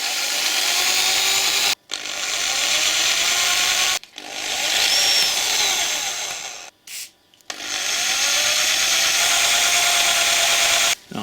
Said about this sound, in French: il va falloir percer